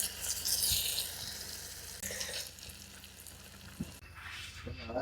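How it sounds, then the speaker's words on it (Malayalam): Seer fish fries in hot butter in a pan, giving a soft, steady sizzle with a brief louder crackle of disturbance and a few light clinks as it settles. "നമ്മുടെ മീൻ ഇതാ ഫ്രൈ ആയിക്കൊണ്ടിരിക്കുന്നുണ്ട് കേട്ടോ"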